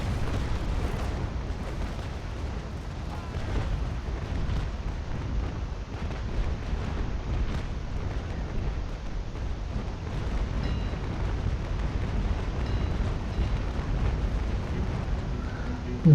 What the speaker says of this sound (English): let's get another broadside